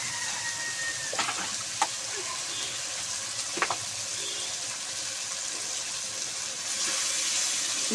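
Raw meat rinsed under a running tap in a home kitchen, a steady broadband hiss of flowing water with a few faint clinks, no talking.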